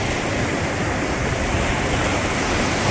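Rushing whitewater of Tacoma Rapids, a class 2 rapid on the Rogue River's Wild and Scenic section, a loud, continuous broadband roar heard up close.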